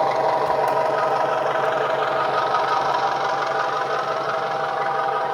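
A Bachmann Class 205 Thumper DMU model train plays its diesel engine sound, revving up through a gear change as a steady, close, throbbing drone with a rhythmic knocking pulse.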